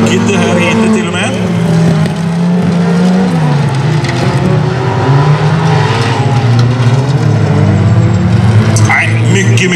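Folkrace cars racing at Backabanan in Skene, engines roaring loudly and continuously with revving and passing sounds, under steady commentary.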